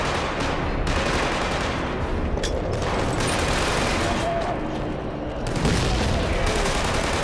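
Sustained gunfire from a shooter video game, with dense bursts of rapid shots and heavier volleys running through the whole stretch at a steady, loud level, over a constant noisy backdrop.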